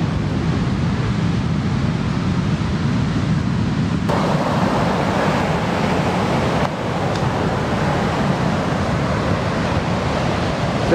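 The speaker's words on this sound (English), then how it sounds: "Look at these waves." Ocean waves breaking on a Sri Lanka beach: a loud, continuous wash of surf with heavy wind buffeting the microphone and no voices.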